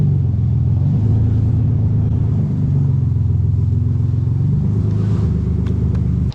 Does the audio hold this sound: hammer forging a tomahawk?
no